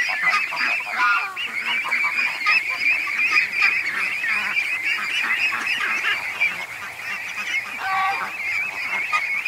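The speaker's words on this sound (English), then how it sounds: "The little quacks are starting." Ducks in a pen quack and call in a dense, constant chorus, loud and close, with overlapping calls and no pauses throughout.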